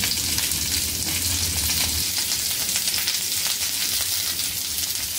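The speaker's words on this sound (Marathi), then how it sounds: "तर साईडने थोडंसं आपण तेल सोडायचं आहे। आता 1 मिनिट आपण अशी शिजवायची आहे" Stuffed okra (bhindi) frying in oil in a pan, giving a steady, bright crackling sizzle that stays close and even all the way through, with no voices.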